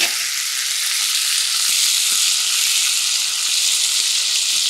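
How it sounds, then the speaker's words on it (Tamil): Steady, loud sizzling of onions and garlic sautéing in a hot pan, a dense hiss that continues without pause. "இந்த பக்கம் பார்த்திங்கன்னா நல்ல இந்த வெங்காயமும் பூண்டும் வதங்கிடுச்சு"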